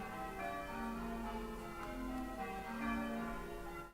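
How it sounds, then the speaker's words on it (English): Church bells ring out in full peal, their overlapping sustained tones forming a dense, continuous wash for a few seconds. "You'll hear the church bells in full effect at the moment"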